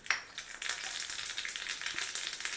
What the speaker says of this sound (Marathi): तर आपण गॅसवर तडका पॅन ठेवले, गॅस चालू केलाय. थोडी मोहरी घातली